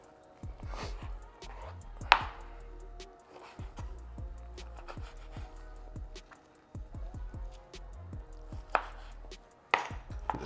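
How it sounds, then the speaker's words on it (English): A knife chops steak into bite-sized pieces on a cutting board, quick irregular bursts of sharp thuds with short pauses, close and fairly quiet. "Just continuing chopping these up"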